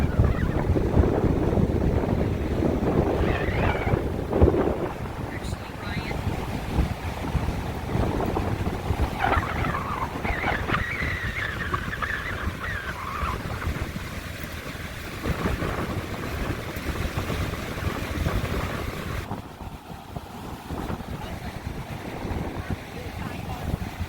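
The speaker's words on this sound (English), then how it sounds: "This wind is ridiculous. These waves are probably 3 to 6 feet," Strong tropical storm wind roars continuously into the microphone beside 3 to 6 foot waves on open water, a heavy, unbroken rumbling buffet with a voice faintly buried underneath.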